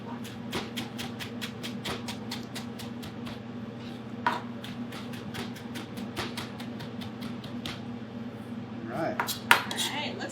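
Fresh basil is chopped with a knife on a cutting board in a kitchen, a steady run of quick, crisp close-up taps, with a few clinks of utensils near the end.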